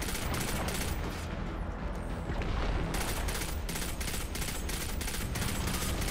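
Enemy fire in Destiny 2, a dense, continuous roar of rapid shooting and explosive blasts filling the whole stretch, loud and constant with brief regular pulses, without clear talk on top.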